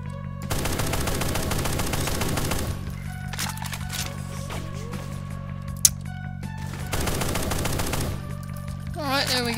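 Rapid bursts of gunfire aimed at the player in Brutal Doom, loud close automatic volleys in two long stretches with scattered single cracks between them.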